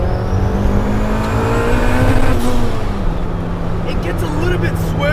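Turbocharged 400HP B18C Honda Civic Si EM1 that revs to 9,000 RPM, its engine note climbing steadily and then shifting down as it accelerates, loud and close from inside the car.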